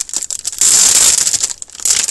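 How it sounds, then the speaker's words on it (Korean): Plastic wrapping film crinkles and rustles steadily while craft supplies such as masking tape and wrapping paper are unpacked, loud and close with a denser burst in the middle, no voices. "이거 비닐 소리는 양해 부탁드리도록 할게요."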